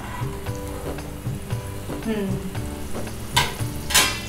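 An onion and tomato masala frying in oil for a baida curry, with a steady crackling sizzle throughout and a couple of louder stirring scrapes near the end.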